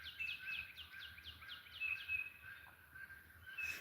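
Birds chirping outdoors on a farm on a Saturday morning, a repeated series of quick bright calls in a fairly regular rhythm, close and clear over low background hum, with no talking.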